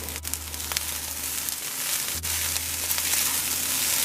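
Purple and white onion sizzling in a pan of finished vegetarian fried rice with veggies, a steady close hiss of frying that runs unbroken throughout.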